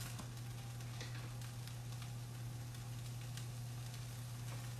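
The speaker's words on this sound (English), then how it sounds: "Right now we're trying to saute these mushrooms at pretty high heat." Mushrooms sauté in a little warm olive oil in a pan on high heat, giving a steady, soft, close sizzle with faint crackles and a low constant hum beneath.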